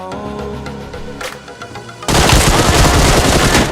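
PUBG gunfire erupts suddenly after a quieter musical lead-in, a loud dense burst of rapid automatic shots that continues without pause to the end.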